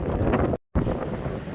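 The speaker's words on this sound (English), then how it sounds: "It's a bit windy." Wind buffets the microphone on a Cornish beach, a loud steady rumbling roar that cuts out completely for a moment before gusting back just as strongly.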